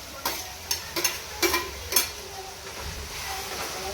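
Tomatoes tipped into a hot pan of frying chilies: a few quick clattering thuds and scrapes of the spoon and pan, followed by a steady soft sizzle, close up.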